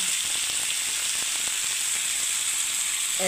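Steady hiss of water being poured into a sizzling yogurt mixture in a pan while cooking doi begun, with a constant broadband fizz and faint clinks throughout.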